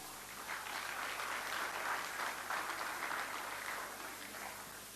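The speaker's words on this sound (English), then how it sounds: "Can we please hear a huge round of applause?" Audience applause at the Sivanta property launch by the Nandivardhan Group, a steady wash of many hands clapping at moderate distance, holding fairly even for about five seconds with no talk over it.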